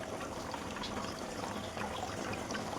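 Ground mustard paste squeezed by hand, with water dripping and trickling steadily out of it close by, a continuous wet liquid sound without talk.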